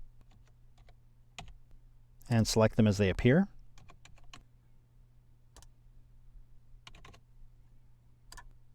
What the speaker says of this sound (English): So start typing the names of Facebook friends